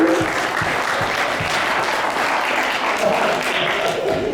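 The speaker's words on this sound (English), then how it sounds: "Hand clap, please." Hand clapping rolls from an audience at a National Women's History Month program honoring Coretta Scott King, a steady, close, full round of applause with no speech over it.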